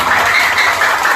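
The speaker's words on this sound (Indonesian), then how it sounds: "Tepuk tangan." An audience at a Ramadan religious gathering applauding: a dense, loud, steady wash of clapping that lasts only a moment.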